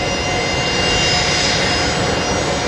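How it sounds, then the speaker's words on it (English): A Fokker 70 jet rolls toward its gate bay at Brisbane Airport at night, giving a steady, loud, unbroken engine roar with a high whine on top and no voices. "There's Fokker 70 coming in on bay, don't know actually, bay 49 maybe."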